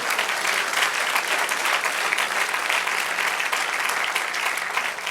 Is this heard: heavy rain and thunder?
no